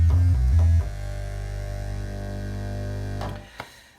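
A Yamaha CS20m or CS40m analog synthesizer under restoration plays a sustained buzzing tone through a high-pass filter, with a brief louder note at the start, then a steady held tone that cuts off near the end.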